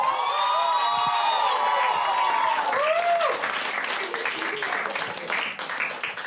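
A club audience claps and cheers loudly for comedian Aakash's stand-up comedy debut, with whoops rising early and dense applause continuing steadily throughout.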